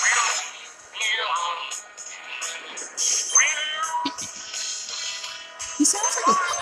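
Mario Kart mobile game character voice with a cat-like, meowing quality, chirping in short bursts over upbeat game music and effects while someone talks throughout.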